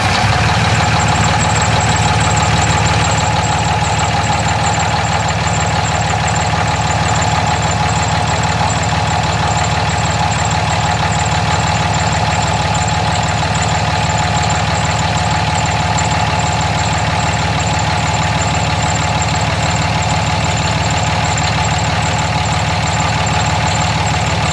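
A 2005 Dodge Cummins diesel idles loud and close with a steady, even clatter and low rumble that runs unbroken throughout, with no talking.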